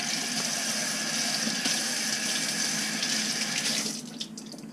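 Kitchen tap water runs steadily over cilantro being rinsed, a continuous close hiss and splash that cuts off near the end, leaving quieter handling sounds.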